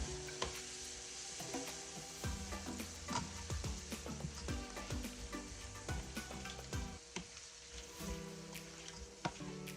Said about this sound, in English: So I'm gonna allow this to burn in the oil.